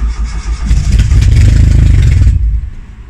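A turbocharged Tofaş car engine cranks and catches with a loud, clattering start, running roughly for a couple of seconds before cutting out abruptly, close to the microphone.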